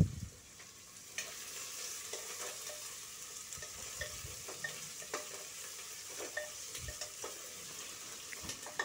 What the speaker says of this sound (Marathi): आता कांदा घातलेला आहे, त्यावर चांगला परतून घ्यायचा आहे कांदा